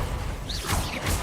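The Glacius freezing spell is cast in a Harry Potter video game: a brief, icy magical swoosh with a rising shimmer, then a short crackling burst, all over about a second.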